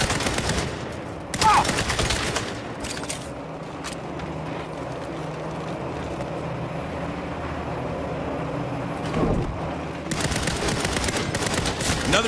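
Turret machine gun fire in Saints Row (2022), rapid bursts of automatic gunfire hammering in at the start and end around a rumbling lull of engine and ambient noise, loud and close, with no talk.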